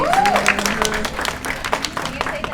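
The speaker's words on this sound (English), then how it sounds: "Round of applause for Rhonda, please" Audience applause for Rhonda at a sisterhood symposium, a short burst of many hands clapping with voices talking over it.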